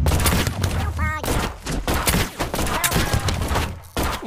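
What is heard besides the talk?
gunfire from the Gumslinger video game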